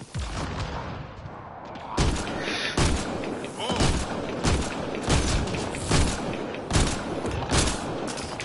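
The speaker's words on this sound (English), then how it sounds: "Who's shooting me?" Combat gunfire in Mass Effect: Andromeda: a steady barrage of loud shots and impacts roughly every second, dense and close, with some faint voices under it.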